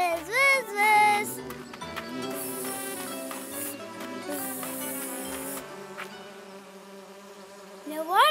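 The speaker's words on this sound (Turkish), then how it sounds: "Vız vız takipteyim. Vız vız arı Niloya takipte." A cartoon bee buzzes in a children's animated show, a fluttering drone that swells and fades close by amid bright music, with some voice sounds at the start and end.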